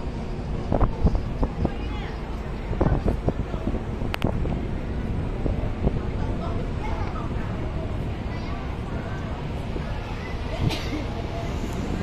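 Wind buffets the microphone on the dockside promenade of Victoria Harbour at Tsim Sha Tsui, Hong Kong, a continuous rushing roar with occasional gusts and faint background voices.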